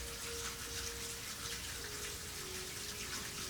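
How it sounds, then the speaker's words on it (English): Water from laundry runs steadily through a studio, a constant faint hiss and wash of flowing water with a low hum and no voices. "we got water running through the studio here"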